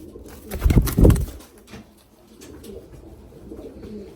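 A pair of tiny Japanese mango pigeons coo close by, one strong throaty burst near the start, followed by quieter murmuring and soft rustling.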